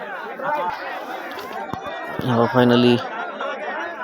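A crowd chatters and calls out at a rural horse and bull cart race, with someone talking up close over the hubbub and a brief sharp tonal call rising above the noise.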